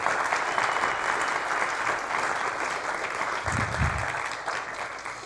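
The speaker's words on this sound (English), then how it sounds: "applaud that." A church-style gathering breaks into steady, dense applause that holds evenly for about five seconds, close and fairly loud, with no voices over it.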